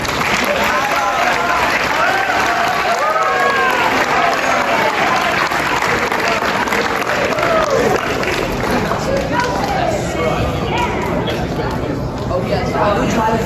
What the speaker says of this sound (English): Guys, let's give a round of applause for you.